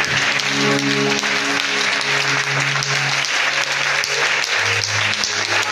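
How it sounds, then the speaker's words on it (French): Loud, sustained applause from a large church congregation at a Sunday service filling a room, steady clapping throughout with a low hum of voices underneath. "Acclame Jésus pour sa bonté."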